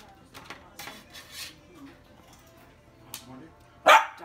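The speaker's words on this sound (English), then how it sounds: "Doggies underfoot." Dogs mill around underfoot in a home kitchen while small slider appetizers are plated. Soft dish and cutlery clatter and quiet voices come first, then one sharp, loud bark bursts out close by near the end.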